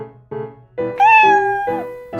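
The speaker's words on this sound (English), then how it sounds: "That's a cute cat." A cat meows several times in quick succession, short calls building to a longer, higher, drawn-out meow, close and clear with nothing else heard.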